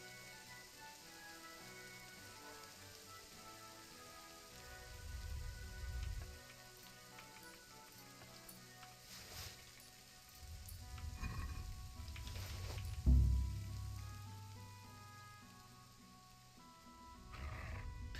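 Steady rain pouring down in Kingdom Come: Deliverance II, a soft continuous hiss with a few heavier low swells and one brief thump, no voices.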